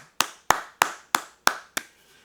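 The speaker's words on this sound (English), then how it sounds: "Everybody clap." Six sharp, evenly spaced claps ring out alone at a political talk, each a crisp single hit with a short decay, fairly quiet and close.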